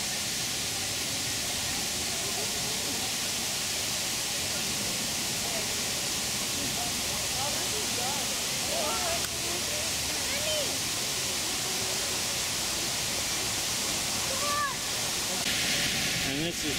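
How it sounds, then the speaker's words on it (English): Aerated pool at an outdoor water garden, giving a steady, loud wash of bubbling and churning water that fills the whole stretch with no break, with faint chirps over the top. "The aerated pool again."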